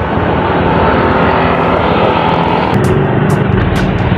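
A motorcycle engine running hard under load, a loud, dense, continuous roar with close-up wind buffeting, steady throughout with some rattling bursts near the end.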